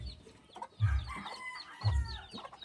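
A white mother hen gives low, throaty clucks, two clear bursts about a second apart, close by and with no talking, set among thin peeping and chirping calls of the chicks she hatched in the background.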